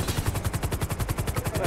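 Rapid automatic gunfire in GTA 5 video game during a bank robbery, a loud, evenly spaced stream of shots rattling out without pause for the whole moment.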